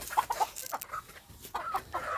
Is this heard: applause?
no